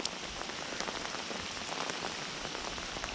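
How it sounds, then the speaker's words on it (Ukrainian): Rain patters steadily on surfaces beside the water during a carp fishing session, a dense continuous hiss of close drops with small irregular taps, unbroken and without voices. "Дощик гарний."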